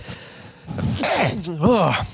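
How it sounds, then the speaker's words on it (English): One close sneeze bursts out after a brief breathy lead-in, with a voiced trailing sound at the end. "I got to sneeze real time"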